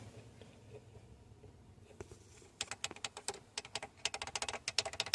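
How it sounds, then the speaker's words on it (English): Analog buttons in a restored retro Datsun car are clicked in a rapid, uneven series of sharp, close clicks after a quiet stretch, with no talking. "That analog sound of these buttons to die for."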